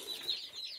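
Tiny newly hatched chicks in an indoor brooder setup give faint, thin high peeps, a brief run of soft cheeping close by.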